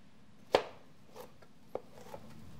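A knife chops an onion on a cutting board for street tacos: one sharp close chop, then a few softer, sparse cuts in a quiet kitchen.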